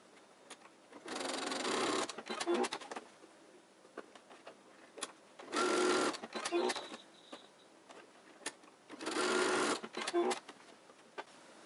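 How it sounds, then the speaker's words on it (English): A sewing machine stitches the corners of a fabric face mask in three bursts of rapid whirring, each lasting about a second or so, with quiet pauses and small handling clicks between them. "now that all 4 corners have been stitched"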